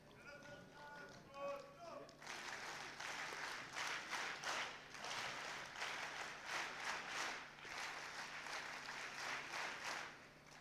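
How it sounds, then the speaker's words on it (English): At a youth summit stage event, brief speech gives way to a sustained round of applause from the audience during a memento presentation, rhythmic clapping swelling and holding at moderate distance. "Huge round of applause, ladies and gentlemen"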